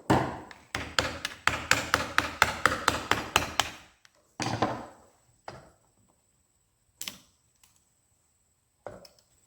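Tapping and prying on the starter of an Oliver 88 tractor to free its bottom plate: a rapid run of close metallic knocks, then a few scattered thuds and clanks among quiet gaps.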